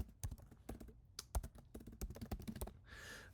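Computer keyboard keys tapped in quick irregular bursts, close and crisp, with several presses including the spacebar, ending in a brief soft rustle; no speech.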